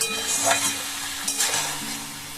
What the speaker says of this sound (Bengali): এইভাবে কিন্তু একটুখানি সব মিশিয়ে নিতে হবে